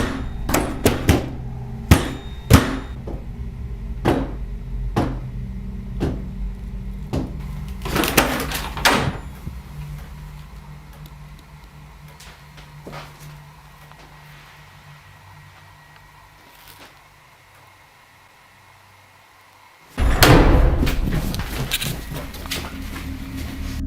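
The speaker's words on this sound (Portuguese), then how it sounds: "O porão estava tremendo por conta própria, chacoalhando como se alguém estivesse tentando desesperadamente entrar ou sair." A basement door rattles and bangs hard in a rapid series of knocks, as if someone is forcing it. The banging eases into a quiet stretch, then one loud heavy burst hits near the end.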